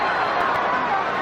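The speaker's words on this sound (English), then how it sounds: "Crowd trying to chant Holyfield." A boxing arena crowd roars and chants for Holyfield during a heavyweight bout with Lewis, a steady dense wash of massed voices heard at a distance throughout.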